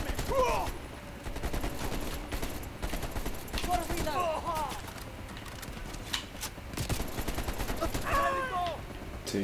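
Heavy machine gun fire in the Call of Duty: Black Ops Cold War campaign, dense continuous bursts of gunfire with metallic ricochet-like pings and a voice talking over the clatter.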